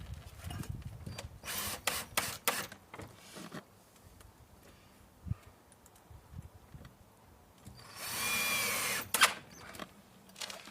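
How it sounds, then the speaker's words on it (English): A power drill drives a screw into a wooden gate during an outdoor gate installation, with one sustained whirring burst late on after scattered knocks and handling sounds. "I'll put the screw in."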